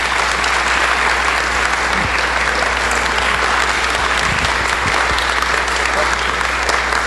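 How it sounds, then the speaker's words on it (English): A theater audience at the Arcada Theater gives a loud, sustained round of applause, dense clapping at a constant level over a low hum, with voices mixed into the crowd noise. "Please, big round of applause for all these people who give us a hand."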